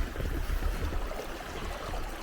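A small stream trickles and burbles beneath a trail footbridge on a snowy winter trail, a soft continuous watery rush with low gurgling, fairly faint and heard without any talk.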